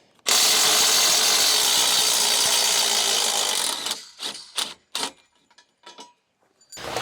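A power tool whirs loudly for several seconds, removing bolts from the arms of a modular off-grid solar array. It then cuts off into a few short, separate bursts of noise and quiet gaps.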